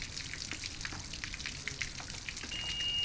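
Water running from a hose during annual maintenance of a Mercury Optimax boat engine, a steady close hiss and patter with faint drips, rising slightly at the end.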